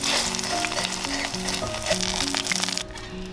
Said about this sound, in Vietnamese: thêm chút tiêu hành cho thơm nữa là đem đi chiên được rồi